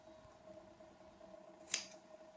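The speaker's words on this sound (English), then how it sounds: "Be careful when you trim the excess thread, to not trim too much and to not cut the fabric." A single quick snip of scissors trimming excess embroidery thread on fabric for a three-dimensional turkey-stitch puppy, a short crisp cut standing out over a faint steady hum.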